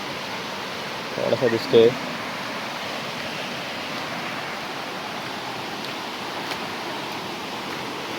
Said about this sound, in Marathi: वॉटरफॉल।